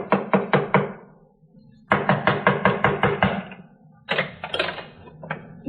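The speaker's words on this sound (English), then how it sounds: "Someone knocked on the door." Three bursts of rapid knocking on a door, each a run of five to seven sharp raps, with short pauses between them. The knocks are close and loud, a radio drama sound effect with no speech.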